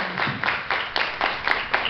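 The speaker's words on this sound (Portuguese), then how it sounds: "uma salva de palmas para o Cornélius, que reescreveu a sua história" An audience at a public talk on penal execution and society claps in a brief round of applause, crisp individual claps landing in quick, fairly regular succession, moderately loud and unaccompanied by talk.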